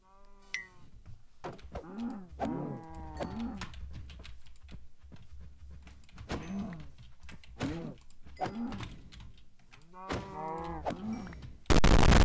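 Repeated cow moos from the video game Minecraft, several drawn-out calls spread across the clip at moderate loudness with no talk, ending in a sudden burst of noise.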